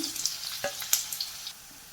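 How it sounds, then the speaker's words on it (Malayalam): Finely chopped onion and garlic frying in a pan for an aloo palak curry, a soft hissing sizzle with a few light crackles and spatula touches, close but fairly quiet, fading slightly toward the end with no talking. "ഒരു ചെറിയ സവാള പൊടിപൊടിയായിട്ട് അരിഞ്ഞിട്ടുണ്ട് അതും കൂടെ നമുക്കിതിലേക്ക് ചേർത്ത് കൊടുക്കാം"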